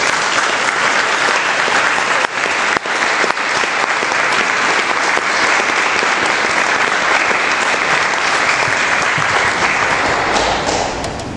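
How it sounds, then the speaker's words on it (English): Loud, sustained applause from a crowd honoring veterans' families at a Gold Star ceremony, steady dense clapping throughout with a few thuds, tapering slightly at the end. "Please, everyone, take a round of applause for all the families and all the veterans here for serving today."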